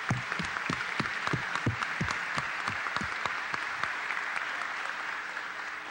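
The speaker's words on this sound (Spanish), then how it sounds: "Pedí un aplauso para Marcos Calderón" Applause in a congressional chamber for football coach Marcos Calderón, honoring the Copa América 1975 champions; steady, moderately distant clapping from a crowd, sharp individual claps standing out early.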